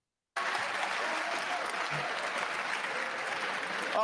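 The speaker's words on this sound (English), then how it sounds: "they are clapping for him" A crowd claps steadily after a debate moment, a sudden onset of dense audience applause that holds evenly at moderate loudness to the end.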